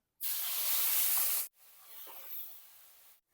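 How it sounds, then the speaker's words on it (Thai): A sudden loud sizzle of catfish hitting hot oil over medium heat, then a softer steady crackling hiss as the frying continues. "ใส่ปลาดุกลงไปแล้ว ให้เราทอดไปเรื่อยๆนะครับ"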